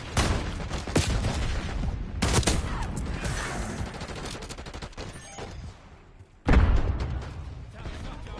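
Impact grenade explosions and rapid gunfire in Call of Duty: Black Ops 6, a dense, loud barrage of shots and blasts, a brief lull near the end, then a sharp heavy boom with more firing.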